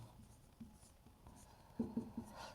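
A pen writing notes by hand on paper, heard close but faint as soft scratching strokes with a cluster of quick taps and scribbles near the end, no voices.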